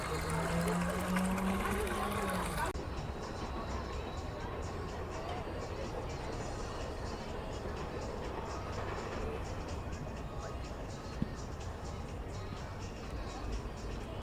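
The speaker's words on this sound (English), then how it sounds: "Cool little fountain here. I wouldn't call it a fountain, but it's water coming out of these barrels." Water spills steadily out of a row of barrels at a small fountain feature in a family fun center, a continuous broadband splashing wash that stays even throughout, with a brief louder passage at the start.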